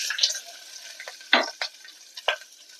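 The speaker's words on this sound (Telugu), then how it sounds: "ఇప్పుడు ఉల్లిపాయ ముక్కలు వేస్తున్నా" Onion pieces sizzle in a pan for goat leg soup. The sizzling is faint, and a few short stirring scrapes and clatters sit over a soft frying hiss, with no voice.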